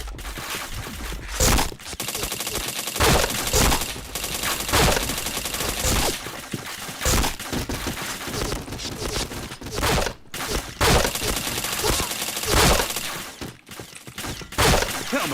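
Rapid, dense gunfire from a shooter video game, with bursts of automatic shots rattling almost continuously and loudly throughout, separated by brief gaps.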